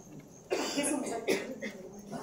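A sick man with fever coughs in a stage play, a couple of close, harsh coughs with a hoarse, throaty edge.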